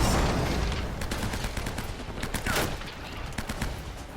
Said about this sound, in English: I'm just gotta endure this until the enemy stops shooting